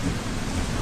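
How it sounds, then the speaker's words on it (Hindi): Steady heavy rain with a low rolling rumble of thunder fills a brief moment, with no voices present. "शीना जी, मेरा घर पास में ही है, जब तक बारिश नहीं रुकती आप कुछ देर मेरे घर रुक सकती हैं।"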